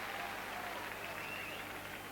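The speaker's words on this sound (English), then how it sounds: "The fans still cheering their team on." Football fans at a Shrewsbury Town versus Barnet match in 2004 keep up a steady, dense roar of cheering and clapping from the stands, with a commentator's voice running over the crowd noise.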